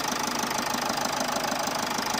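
A 2019 Toyota Etios idles steadily nearby, its engine giving a quiet, even, rhythmic beat with no voices.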